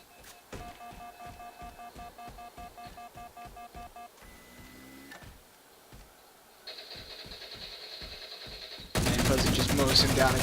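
Gunfire in Halo 4 multiplayer: long runs of rapid, evenly spaced automatic shots, a brief pause with a mechanical whir, more firing, then a loud burst of noisy blasting at the end.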